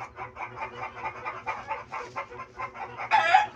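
Chickens cluck and murmur continuously nearby in a rhythmic, chattering pattern, with a sharper, louder squawk near the end.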